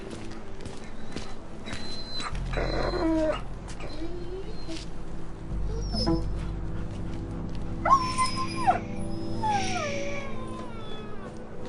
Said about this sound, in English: It's the Hortons, dog. It's not gonna make it